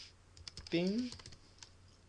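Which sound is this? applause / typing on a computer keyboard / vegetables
typing on a computer keyboard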